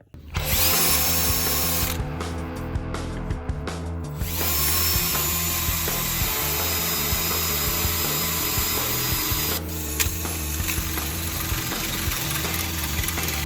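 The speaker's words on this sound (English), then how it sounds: "One of my least favorite things to do is drill holes in frame rails." A power drill grinds loudly and continuously through a truck's steel frame rail, a harsh steady whine with a few brief changes in pitch, very close.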